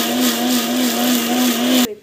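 An electric mixer grinder whirs loudly and steadily at close range while grinding ingredients, then cuts off abruptly near the end, leaving a faint rattle.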